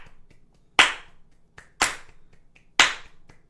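Three sharp, loud hand claps land at an even rhythmic pace, about one per second, each with a brief ring-off, alone in a quiet room.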